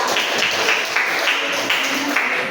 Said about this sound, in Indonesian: Oke, tepuk tangan dulu untuk Nila.